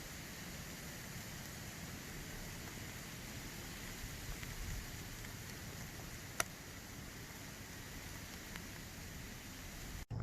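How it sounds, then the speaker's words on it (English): Rain falls on the Appalachian Trail near Angel's Rest in Virginia, a steady, faint hiss with occasional light ticks of drops, unbroken and without voices. "I made it to Angel's Rest just as it's starting to rain."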